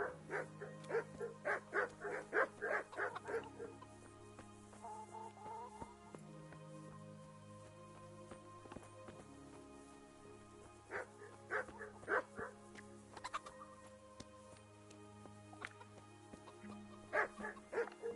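Dogs bark repeatedly in Kingdom Come: Deliverance, clusters of bow-wow barks coming in bursts with pauses between, over a steady low game ambience, no speech.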